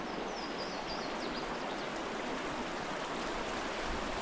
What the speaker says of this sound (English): Got a whole lot of water coming out of here.